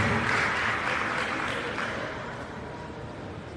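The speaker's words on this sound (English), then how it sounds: "Clap for Archie as he takes his seat" An audience claps steadily for a man named Archie at a World AIDS Day commemoration in Monrovia, Liberia, a dense round of applause that holds for a few seconds and slowly fades.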